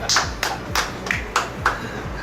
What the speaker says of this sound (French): vous pouvez vous applaudir, applaudissez-vous les amateurs avertis